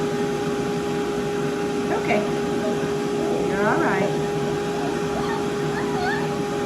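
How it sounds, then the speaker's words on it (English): A hair dryer blows on a wet puppy after its first bath, a steady whirring hum running throughout while a person speaks softly and reassuringly over it, with brief whimpering squeals from the puppy. "Here's the dryer."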